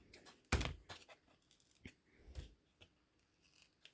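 Scissors snip small paper pieces for a Valentine's Day craft decor piece, with one sharp close cut followed by a few lighter scattered snips and rustles, without speech.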